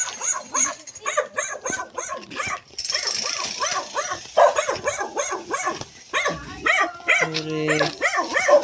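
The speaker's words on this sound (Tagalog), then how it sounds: "So many dogs." Several dogs bark and yip in a chorus of repeated, fairly close barks through most of the stretch, with people talking intermittently in the background.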